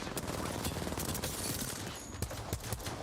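Rapid gunfire from an Apex Legends competitive match fills the clip, dense overlapping bursts and sharp shots layered over busy game noise, loud and continuous with no clear pauses.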